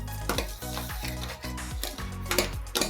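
Wheat semolina roasts in ghee in a pan, sizzling steadily while a utensil scrapes and stirs in repeated rhythmic strokes close by, with no talking.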